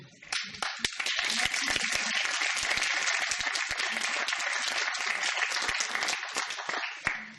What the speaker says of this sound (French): je tiens à l'applaudir aussi parce qu'elle fait du bon boulot.